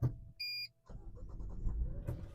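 A new Mazda CX-60 is started: a short electronic chime sounds, then the engine cranks and catches into a steady low idle, heard from inside the cabin.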